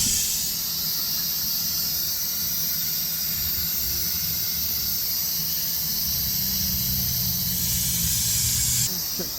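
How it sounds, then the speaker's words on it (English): Steady hissing suction of a vacuum pump drawing air and brake fluid from a caliper bleeder screw during a big brake upgrade on a Mercedes ML350 W164, continuous and close, cutting off near the end. "put a vacuum on the bleeder screw just to make sure we suck all the air out of the caliper"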